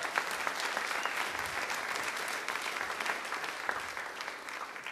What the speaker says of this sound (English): Give the ant a little round of applause.